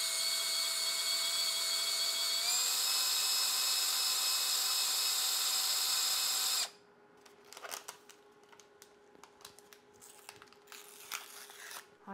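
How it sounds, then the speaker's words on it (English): A loud, steady high-pitched drill whine runs for several seconds as a hole is drilled freehand into a custom PC motherboard tray, then cuts off, followed by scattered scraping and crinkling noises. "I'm gonna try drilling a hole into it without the drill guide."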